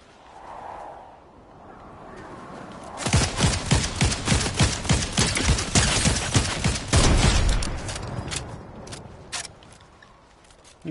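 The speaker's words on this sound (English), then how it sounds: "He's trying to shoot me through a tree." Rapid video-game gunfire erupts in a dense burst of repeated shots as an enemy fires through a tree, loud and sustained for several seconds before trailing off.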